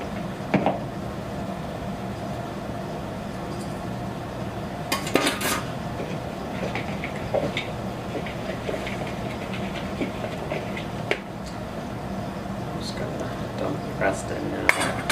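A fork scrapes and clinks against a bowl while coconut cream pie filling is mixed, giving intermittent light metallic taps and scrapes over a low room hum.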